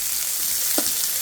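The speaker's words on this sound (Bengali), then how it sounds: "এখন আমি পেঁয়াজটা একটু ভেজে নিচ্ছি।" Onions fry in a pan with a steady, close sizzle and a brief stirring scrape partway through; no talking.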